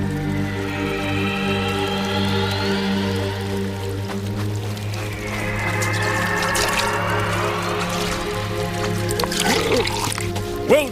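Water trickles and drips steadily over a constant background tone, with soft liquid burbling throughout.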